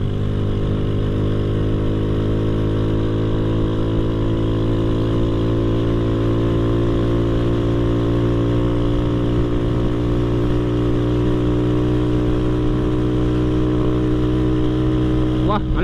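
Honda Astrea Grand motorcycle engine fitted with a Jupiter carburetor, revving loud and steady, its pitch climbing slowly as the throttle is held open, with a voice faintly underneath.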